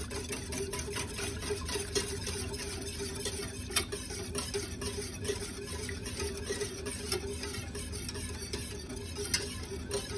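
Macaroni and cheese sauce being stirred until thickened makes continuous close scraping and soft ticking utensil sounds over a steady low hiss.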